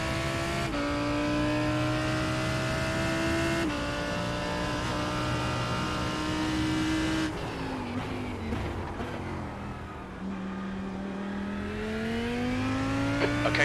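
IMSA GTD race cars lapping Hockenheim GP in a racing sim: loud, steady engine drone with upshifts and pitch drops, plus another car passing near the end, no talk.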